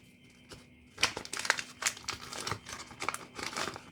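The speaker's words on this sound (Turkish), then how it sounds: "şimdi bunu açalım hemen bu paketi" Plastic packaging around a Barbie doll set with slime is crinkled and torn open, giving a run of close, loud crackling and crunching bursts after a quieter first second, with no talking.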